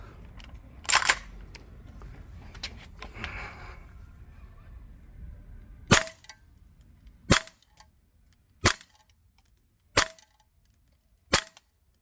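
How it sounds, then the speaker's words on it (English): A VFC MP7A1 Gen 2 Navy gas blowback airsoft gun fires 0.25 g BBs on green gas over a chronograph. Sharp, close snapping shots ring out, first a couple of irregular ones, then five crisp, evenly spaced reports against a quiet background. "Okay, quick burst fire, let's see what the rate of fire is."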